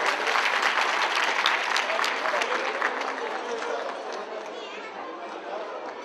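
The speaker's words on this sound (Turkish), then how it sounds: "Alkışlıyoruz bir kez daha." A crowd applauds loudly with steady clapping that gradually thins and fades, with some chatter underneath.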